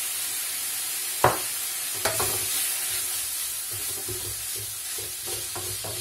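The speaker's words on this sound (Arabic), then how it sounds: "غادي نخلطو كلشي مزيان ونخليهم يطيبو" Kofta frying with ginger and turmeric in a pan, a steady sizzle with a few sharp spoon knocks and stirring scrapes against the metal, close and without talk.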